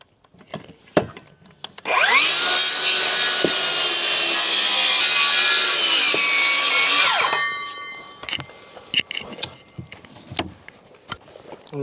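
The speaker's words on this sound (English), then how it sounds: "Let's cut these battens" A power saw set to about one inch deep rips through 1-inch-thick wooden battens outdoors, a loud sustained whine lasting several seconds, with scattered knocks and handling clatter before and after.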